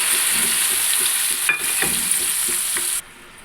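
Onion and tomato paste sizzles steadily in hot ghee for egg biryani, a dense continuous frying hiss with a few soft stirring knocks, cutting off sharply near the end.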